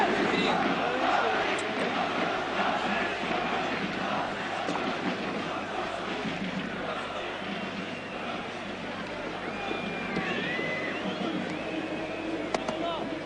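A large stadium crowd roars steadily as Alen Boksic leaves the pitch during the 1992/93 Champions League group match between Olympique de Marseille and Club Brugge, a dense continuous cheer under a commentator speaking French.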